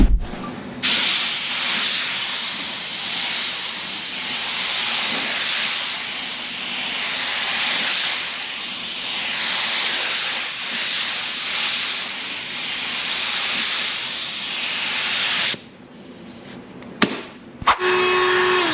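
A spray gun lays base coat paint onto a car door in a DIY home spray setup, giving a loud, steady hiss that pulses slightly for about fifteen seconds, then stops with a few short bursts at the end.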